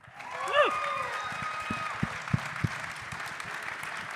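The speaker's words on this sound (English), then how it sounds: "Let's have another great round of applause for this great class." Audience applause for a rodeo hall of fame induction class at a national ceremony: steady, moderately loud clapping fills the room for several seconds, with a brief whistle or whoop near the start and a few sharper claps standing out.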